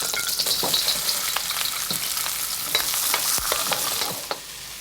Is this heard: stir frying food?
yes